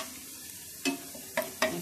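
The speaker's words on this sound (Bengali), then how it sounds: "সব দর্শক দেখেন পেঁয়াজ কুচিগুলো ভাজা হয়ে যাচ্ছে" Chopped onions fry in a pan for an egg kofta curry with cabbage: a faint, steady sizzle runs throughout, broken by three short scraping stirs near the end.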